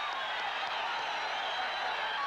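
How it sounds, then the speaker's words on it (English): A boxing arena crowd rises and cheers near the end of a round in the Danny Lopez vs Salvador Sanchez fight, a broad sustained roar with scattered applause and whoops, heard from a distance as a steady wash of noise. "The crowd coming to its feet."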